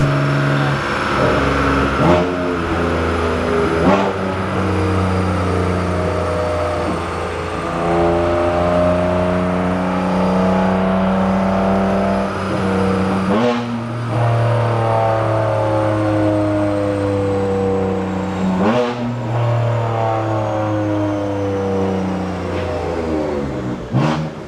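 BMW F82 M4 engine idling on 93 octane fuel after refuelling, a steady close droning idle with a few brief blips and surges spaced across the span.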